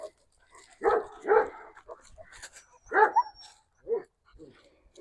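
A dog barks and yelps in short, loud bursts, a few spaced outbursts close by with quieter whimpering between, and a person speaks briefly.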